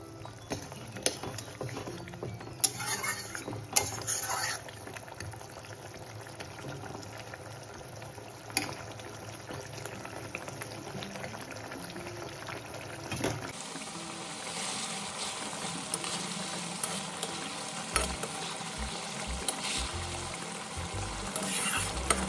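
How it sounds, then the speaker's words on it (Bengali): Aar fish simmering in a pan of Bengali-style curry sauce, a steady bubbling boil with soft sizzle that runs the whole time, shifting tone partway through, with a few low knocks near the end. "এরপর আমি মাছগুলোকে দিয়ে দেব ঝোলের মধ্যে, দিয়ে ভালোভাবে ফুটিয়ে নেব"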